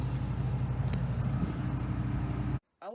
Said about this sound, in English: if you hear the idling in the background, it's the 9500 combine.